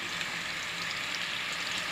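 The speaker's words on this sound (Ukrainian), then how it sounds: "викидаємо на сковорідку ось такими великими ломтями кабачки" Steady, close sizzling of large zucchini slices frying in a hot pan, a dense crackle that holds evenly throughout with no voices.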